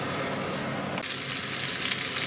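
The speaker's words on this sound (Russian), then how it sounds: "Рыба жарится, картошка варится." Steady, crackling sizzle of carp frying in a hot pan, close and continuous, with a brief shift in the hiss partway through.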